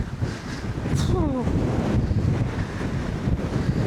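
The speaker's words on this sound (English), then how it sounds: "it's a bit blowy" Gusty wind at Lochindorb buffeting the microphone in a steady loud roar with rumbling surges, outdoors by the loch, continuing throughout without pause.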